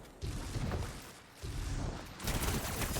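Sidearm gunfire from the video game Marathon comes in two loud bursts of rapid shots separated by a brief gap, close and punchy with mechanical clatter.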